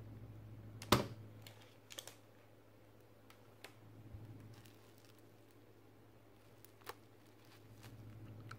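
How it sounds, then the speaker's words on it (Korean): Someone types on a computer keyboard in a quiet room: sparse, faint key clicks with one sharper tap near the start, spread out over a low steady hum. "사용하는 것처럼 키보드를 이용해 작업을 할 수 있게 되었습니다"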